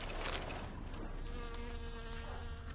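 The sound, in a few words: buzzing flies in the video game The Witcher 3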